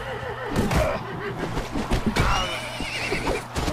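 Horse in the Mount & Blade Warband video game giving a loud, close whinny with clip-clopping hooves and other battle noise around it during a tournament fight.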